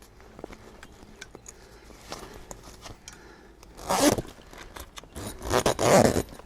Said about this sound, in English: So as you zip that along, just lift that up and support its weight.